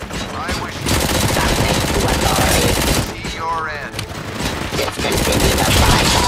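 Dense automatic gunfire in Robocop: Rogue City, a loud continuous fusillade of rapid shots nearly filling the clip with a short lull midway, while voices talk faintly underneath.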